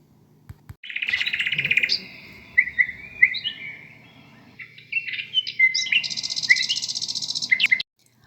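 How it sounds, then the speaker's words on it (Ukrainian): Bright, close birdsong with fast trills and chirps, a few phrases separated by short pauses, clear against a quiet background. "мешкали найвеселіші птахи. Вони співали дзвінки пісні."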